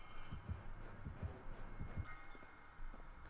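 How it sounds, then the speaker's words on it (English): A heartbeat from the video game Dead by Daylight thumps as low, muffled double beats in a steady rhythm, moderately quiet under a rustling game background with no speech. "The heartbeat's close to her, though."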